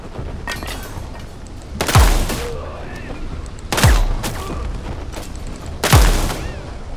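Shotgun blasts in a video game, three heavy booming shots spaced about two seconds apart over low background game noise, with a voice faintly present.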